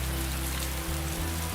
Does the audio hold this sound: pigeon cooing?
no